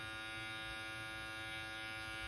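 A JRL FF 2020T hair clipper left switched on gives a steady, even electrical hum, constant and unbroken at low level with no voices.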